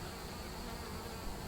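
Honeybees hum in an open horizontal hive, a continuous dense buzzing drone heard up close with no pauses.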